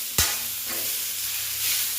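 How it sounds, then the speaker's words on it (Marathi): Whole coriander, stems and all, sautés on a griddle pan for raw tomato chutney, a steady close sizzle with a sharp utensil knock at the start and soft stirring after. "ती कोथिंबीर पूर्ण मी अख्खी याच्यात टाकली आहे आणि ही परतून घेते"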